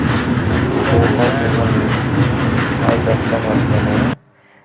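The Golconda Express pulls out of Kacheguda railway station with a loud, steady rumble and rhythmic wheel clatter close by, before the sound cuts off abruptly near the end.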